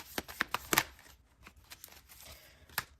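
Tarot cards are shuffled close by in a quiet room: a quick burst of crisp riffling snaps, a pause, then a few softer scattered flicks and one last sharp snap.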